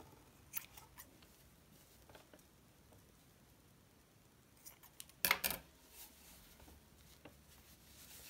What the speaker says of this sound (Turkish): Fazlalıkları kesiyorum.